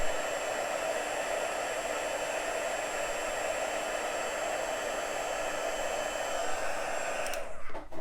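A heat embossing tool melts embossing powder, giving a steady, close, hair-dryer-like blowing hiss for about seven seconds before it cuts off.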